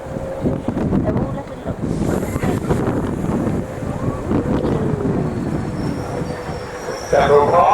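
Steam train pulling into Sheffield Park station on a heritage railway, steady rumbling rolling noise with wheel squeal and wind buffeting, a drawn-out squeal near the end.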